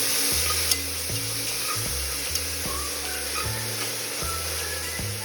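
Steady stirring of soya chunks with yogurt in a pressure cooker, with a repeating low scraping rhythm under a soft sizzle, close and continuous, with no voices.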